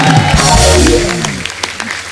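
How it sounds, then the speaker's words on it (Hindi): Studio audience on a comedy talk show during a poetry evening, giving loud, close applause mixed with tonal cheering or music at first, then thinning into scattered claps. "जोरदार तालियां होनी चाहिए जोशी के लिए।"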